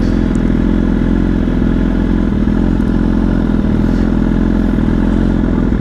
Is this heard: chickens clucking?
no